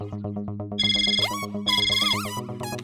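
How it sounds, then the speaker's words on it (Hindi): A mobile phone ringtone plays loud and close: a bright, bouncy electronic melody over a repeating pulsed beat, with wavering high tones rising through the tune. "सिर्फ रिंगटोन सुननी थी।"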